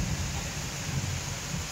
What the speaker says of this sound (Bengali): প্রখর বৃষ্টি, এমনি কোনো হাওয়া বাতাস নাই, মানে নিঝুমে বৃষ্টি পড়ছে